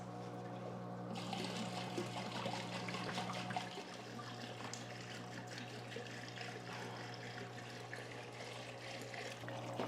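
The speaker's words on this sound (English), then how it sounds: "I'm going to be using a diluted nutrient, so about 1/2 of a teaspoon per gallon to fill up my buckets" Water trickles and pours steadily into hydroponic buckets filled with diluted nutrient solution, a continuous soft flowing sound over a low mechanical hum, faint and unbroken, with a brief louder splash at the start.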